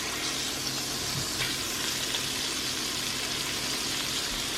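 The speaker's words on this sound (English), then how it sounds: "cook the sides of your steak as well by holding them with a tongue and placing them on the sides to cook" Steady sizzle of filet mignon steak edges searing in a hot pan, the meat held upright with tongs, a continuous close frying hiss with no talking.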